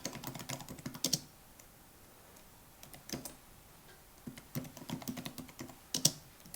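Fast clicky bursts of typing on a computer keyboard, close and quiet, broken by short pauses.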